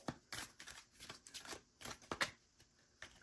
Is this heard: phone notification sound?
no